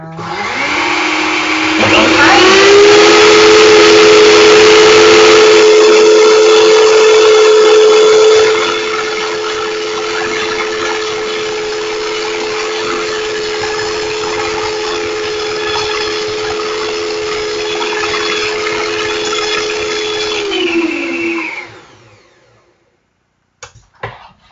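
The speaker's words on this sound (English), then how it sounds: "Put your mixer down." An electric mixer beats lemon drizzle cake batter in a bowl, its motor whine rising at start-up, running loud and steady, dropping to a lower speed partway through, then winding down to a stop, with a couple of knocks after.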